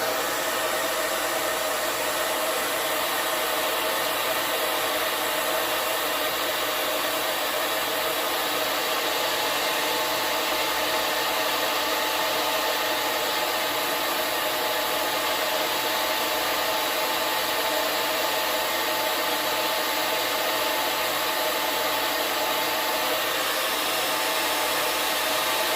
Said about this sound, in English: Blow dryer, if you need more blow drying,